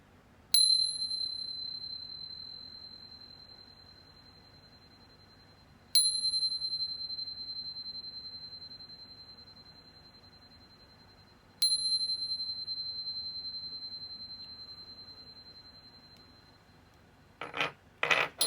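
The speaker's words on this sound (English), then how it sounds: "But first, let's chime." Three chime strikes ring clearly and loudly about six seconds apart, each bright metallic tone decaying slowly in a quiet room, followed by brief soft clattering at the end.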